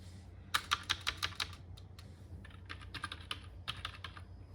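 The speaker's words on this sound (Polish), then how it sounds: "A teraz wpiszę dobre hasło" Password typed on a computer keyboard, a quiet close run of quick key clicks in uneven bursts with short pauses, no talking.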